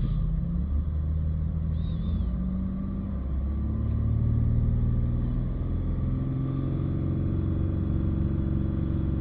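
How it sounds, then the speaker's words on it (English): A Jaguar XF 3.0 engine is held at raised revs, producing a close, steady mechanical hum and rumble whose pitch climbs slightly midway before settling. "We'll just get the engine speed up."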